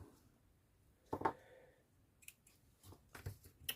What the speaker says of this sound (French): Hop, je vais prendre des ciseaux.